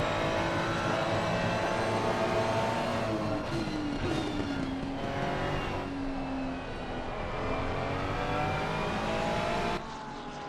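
Porsche and Ferrari race cars battling wheel to wheel on the Barcelona circuit, steady loud engine roar with rising and falling revs throughout, no voices.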